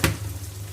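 Tomatoes dropped into a hot kadhi tempering, a brief burst of sizzling at the start settling into a soft steady fry.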